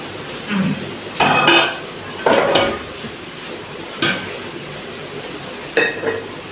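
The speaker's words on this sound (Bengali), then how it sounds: "এখন নামিয়ে নিব মাছের তরকারিটা।" A pot of fish curry lifted off a kitchen stove gives a few sharp metallic clanks and scrapes in short separate bursts, close and fairly loud, with quiet gaps between them.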